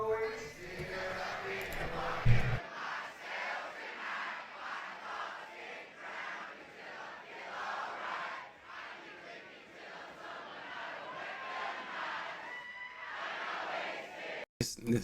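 A large concert crowd roars and cheers continuously, played back through speakers, a steady dense wash of voices with a brief sharp burst near the start and an abrupt cut at the end.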